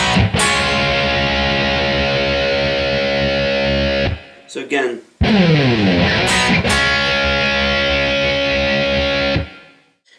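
Distorted electric guitar bar chords from a song, ringing loud and sustained in two long blocks with a brief gap and slides between them, and a short spoken phrase in the middle.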